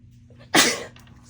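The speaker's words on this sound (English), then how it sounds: "The power of a sneeze, right?" A single sharp, explosive human sneeze bursts out loudly midway through, with a brief quiet hum before and after.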